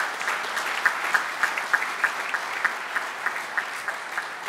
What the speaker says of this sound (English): Let's give him a round of applause for representing us so well